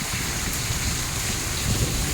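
A hailstorm downpour driven by cold wind roars loud and close, a dense unbroken wash of falling rain and gusts with no voices.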